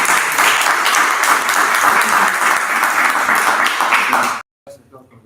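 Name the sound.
audience applause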